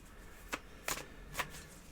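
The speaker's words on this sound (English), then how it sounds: "And just another shuffle here." Tarot cards being shuffled by hand, three short papery riffles spaced about half a second apart, close and quiet, with no voices.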